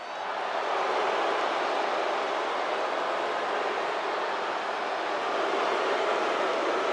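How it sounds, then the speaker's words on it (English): Train sound effect in the wrestling video game WWE 2K24, played for a wrestler's entrance: a steady, dense rumble and roar of a passing train, unbroken for several seconds and without talk. "A real train."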